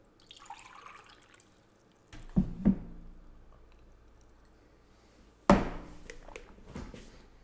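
Water poured in a few short splashing bursts, close by and fairly loud, with quiet pauses between them and no talking.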